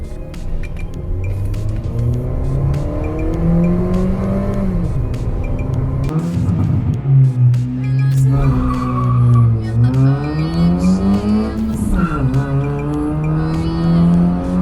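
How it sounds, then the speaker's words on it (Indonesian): An ECU-tuned low-class car accelerates hard, its engine note climbing in repeated rising sweeps as it shifts up, with tires squealing; loud and close throughout, with no talk. "Kecepatan mobil meningkat dari 0 sampai 100 km per jam"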